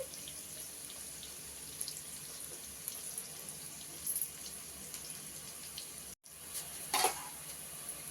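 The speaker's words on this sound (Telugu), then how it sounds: "ఉల్లిగడ్డలు దోరలుగా వేగాలండి" Onions frying in oil in a pan for a salted fish curry, a soft steady sizzle running throughout with faint crackles, no voices.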